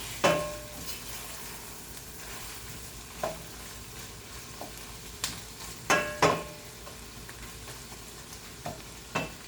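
Cabbage fries in a pan with smoked ham, a soft steady sizzle broken by several sharp clacks and scrapes of stirring, close and fairly quiet with no talk.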